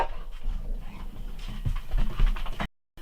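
Several dogs bark and pant excitedly at home as someone returns, a busy, noisy jumble of canine sounds that cuts off abruptly at the end.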